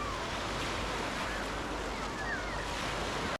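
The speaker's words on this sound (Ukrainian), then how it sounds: "Почалися хвилі." Artificial waves in a water park wave pool, a continuous broad wash of churning water with a faint wind-like hiss, steady and fairly loud throughout, no voices.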